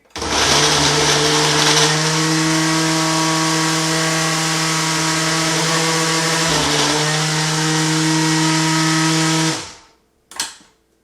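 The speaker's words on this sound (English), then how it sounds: "one more whiz in the blender" A blender making a peanut butter and banana smoothie whirs loudly and steadily for about nine seconds with a strong motor hum, then spins down, followed by a short clatter.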